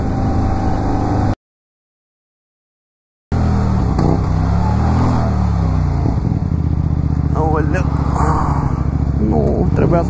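Motorcycle engine on the road, a loud droning rumble with rising and falling revs, broken by a short gap of silence, while people talk over it.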